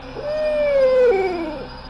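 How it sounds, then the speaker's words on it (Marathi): An owl hoots at night: a single drawn-out, gently falling hoot that swells in the middle and fades, fairly close and alone without any talking. "आणि घुबडाचा हुंकार येत होता।"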